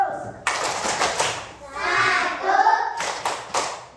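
Schoolchildren in a classroom clap the rhythmic "tepuk 100" pattern, with a few sharp bursts of clapping spaced between stretches of chanting children's voices.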